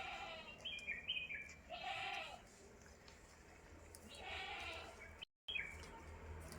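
A large Malabari dairy goat, a crossbreed in its second kidding, bleats twice in drawn-out wavering calls, fairly close, over a low farmyard background with faint chirps.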